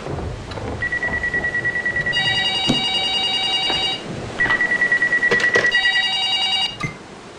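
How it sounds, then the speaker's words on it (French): A telephone rings loudly in bursts of rapid electronic trilling, two long ring cycles separated by a brief pause, in a French-dubbed crime thriller, with no talking during the rings. "Tu n'entends pas le téléphone?"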